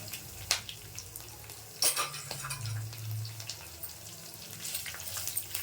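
Onions going into hot oil with dried red chillies in a pan for a yogurt tempering, a steady near sizzle with a few sharp clatters and stirring scrapes, no talk.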